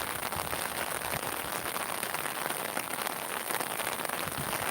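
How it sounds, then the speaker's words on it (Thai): Steady rain pours down on tree leaves beside a path near a workplace, a dense, even hiss of countless drops that stays constant and fairly close throughout, with no voices. "ฝนตกค่ะ"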